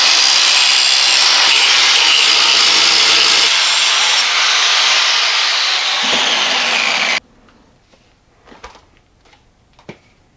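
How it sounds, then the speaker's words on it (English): A grinder shaping spring-steel bone claws, a loud continuous abrasive rasp for about seven seconds that cuts off abruptly, followed by faint scattered clicks and knocks. "Grinding them down might take longer."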